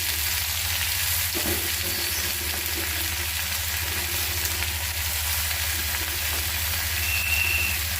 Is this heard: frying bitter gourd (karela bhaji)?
yes